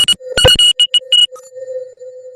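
Electronic ringtone on a video call during an online forum: several sharp, loud chirping bursts in quick succession, followed by a thin sustained tone with no talk.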